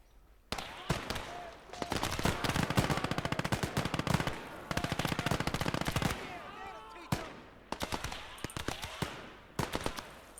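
Machine gun fire in the WWII strategy game Call To Arms: Gates Of Hell, loud rapid bursts of automatic shots in long strings with brief pauses, mixed with scattered single gunshots.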